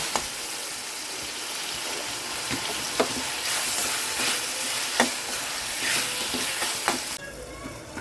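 Tomatoes fry and sizzle in a pan for a kanava (squid) roast with ginger, broken by sharp scraping stirs of a spoon every second or so, close up and with no talking.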